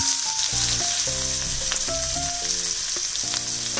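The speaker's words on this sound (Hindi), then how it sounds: "ये जो हम लोगों ने प्याज कट करके रखा था इसको मैं ऐड कर दूंगी।" Chopped onion fries in a pan with a pinch of asafoetida for besan sabji, a steady, loud sizzle that continues without pause, close up and without talk.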